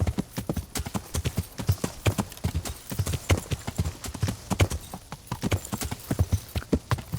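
Horse hooves clip-clop steadily in the Kingdom Come: Deliverance video game, a close, even rhythm of distinct hoof strikes running throughout.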